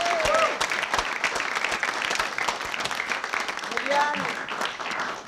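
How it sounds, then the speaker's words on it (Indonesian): A studio audience claps steadily for a comedy game-show contestant, a dense patter of hands running throughout while a host's voice talks over it. "Beri tepuk tangan yang meriah buat Bang Jelly Tobi"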